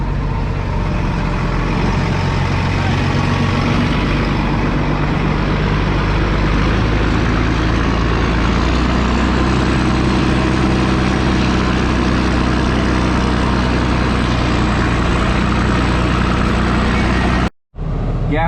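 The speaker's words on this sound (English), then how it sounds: "we got the second pump over there agitating" Heavy manure pump agitating a pit of manure to mix settling solids, a steady loud low engine-like drone running throughout, with a brief cut near the end.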